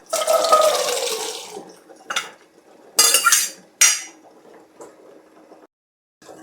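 Eggplant masala curry is stirred in a pot, giving a few separate clattering and scraping spoon strokes with wet splashy bursts and brief gaps between them, close by, with no talking.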